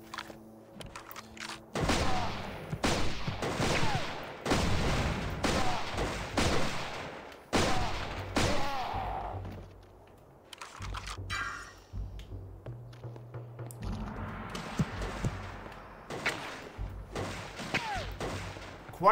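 Grenade explosions and gunfire in the video game Turok Evolution: a series of heavy booming blasts and crackling shots, loud and close, then quieter rumbling and further bursts.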